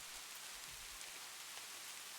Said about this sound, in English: The rain speaks in friendly syllables against the roof.